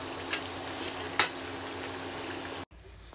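Fenugreek mathri frying in hot oil gives a steady, close sizzle with one sharp clink partway through, then cuts off abruptly into near silence.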